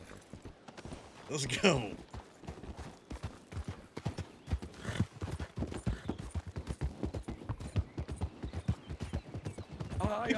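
Horse hooves clip-clop steadily through a video game roleplay scene, the regular thuds running the whole way beneath frequent overlapping talk, with a brief whinny early on.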